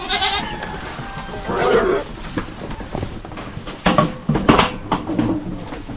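Several goats bleat at close range, short wavering calls in a loose cluster with farmyard shuffling and knocks in between.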